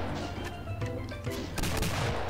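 Rapid video game gunfire in a Mario 64 themed Doom mod shreds a plant, with dense bursts of shots and crashing impacts layered over game sound, no talking.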